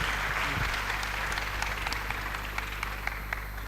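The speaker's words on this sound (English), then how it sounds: "let's welcome Prof VC with a round of applause" An audience applauds to welcome a speaker, a dense wash of clapping from many hands that is moderately distant and gradually thins out over a few seconds.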